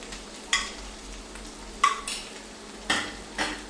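Spices such as chili powder, cinnamon, cumin and coriander fry in a pan, a steady low sizzle broken by several scrapes of a utensil stirring them, close and fairly quiet.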